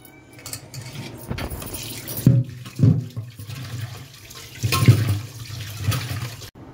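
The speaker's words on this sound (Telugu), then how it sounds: "అందుకని పసుపు ఉప్పు వేసి కంపల్సరీ మీరు క్లీన్ చేసుకోండి" Mutton pieces being washed by hand in water with turmeric and salt, with splashing and sloshing bursts at an uneven pace, close and moderately loud with no talking.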